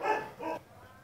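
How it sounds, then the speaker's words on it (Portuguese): A dog in a video game gives two short barks in quick succession, moderately loud and close, then the sound drops to quiet game background. "Olha o outro cachorro, mano."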